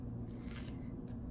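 Scissors snip through seafood for a home seafood boil, a few soft crunching cuts over a steady low background hum.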